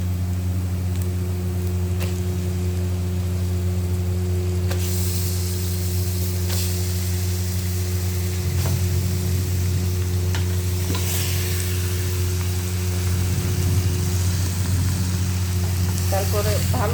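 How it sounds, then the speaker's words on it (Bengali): Meat tipped into a hot pan already holding ginger-garlic paste sets off a steady, fairly loud sizzle and hiss that swells midway and keeps on over a constant low hum. "আমি মাংসটা ঢেলে দেব।"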